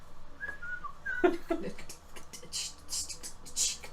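Someone whistles a casual tune in a few short, bright notes. The whistling is faint and scattered over light background noise.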